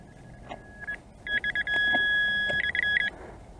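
A Nokta Fors Core metal detector fitted with a big coil gives a loud, steady electronic tone as it passes over a large buried target, with shorter broken beeps before and after it.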